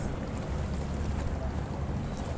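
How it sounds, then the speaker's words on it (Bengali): A large sand-carrying ship on the Buriganga river passes with a steady low engine rumble, mixed with wind buffeting and water noise. "এই যে বিশাল একটি বালির জাহাজ"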